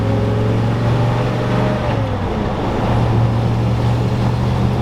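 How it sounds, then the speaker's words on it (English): A 1969 Ford Bronco cruising on a highway: a loud, steady low engine drone blends with broad road and wind rush, with a brief pitch shift midway and no voices. "The engine is just buttery smooth going down the highway."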